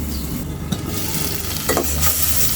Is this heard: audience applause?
no